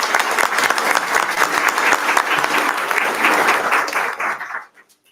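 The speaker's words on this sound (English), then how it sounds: "clap for them" A room full of people at a school district board meeting applauds the board members, steady dense clapping that holds loud for about four and a half seconds before dying away to quiet.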